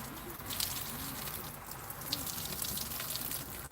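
A trickle of cold water runs onto a young child's feet outside on a hot day, a close, steady splashing and dribbling with small irregular spatters.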